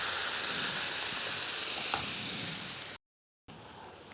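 Shallots, curry leaves and ground coconut curry fry in hot coconut oil in a pan, giving a loud, steady hiss that eases off slightly, then cuts out briefly before resuming.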